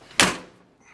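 One sharp metallic clunk of a door latch, close by, followed by a brief fading rattle.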